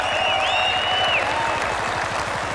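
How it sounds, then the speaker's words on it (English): Cricket crowd applauding at a 1990 West Indies versus England Test match, steady broad clapping with whistles cutting through in the first half, continuous and fairly loud. "How they deserve their applause."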